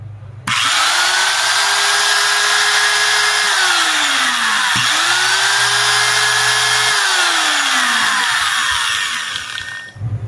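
A repaired electric angle grinder switches on and spins up to a loud, steady high-pitched whine, runs at full speed, briefly dips and recovers, then winds down near the end; no talking.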